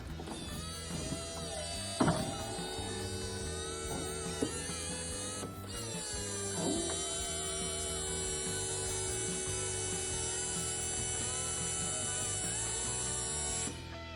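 The folding hardtop mechanism of a BMW 4 Series F33 convertible runs with a steady electric motor whine and a few clicks and clunks, sustained and fairly close, with no talk.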